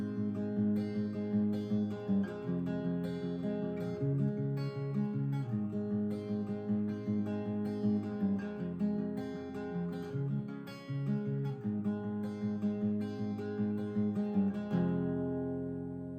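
A strummed acoustic guitar plays the verse chord progression of a song for about sixteen seconds, full and even, with no voice over it.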